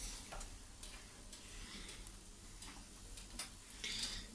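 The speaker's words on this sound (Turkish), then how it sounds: "tost makinesinde ekmeklerimi hafiften bir kızartacağım." Bread slices toast lightly in a tost makinesi, a Turkish contact-grill toaster, with a faint steady sizzle and soft crackling close by and a few light ticks, no voices.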